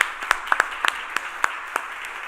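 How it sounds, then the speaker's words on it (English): A small audience at a startup showcase claps. The applause is sparse and uneven, with a handful of distinct, sharp claps standing out over a light, soft background patter. "Give them a warm round of applause."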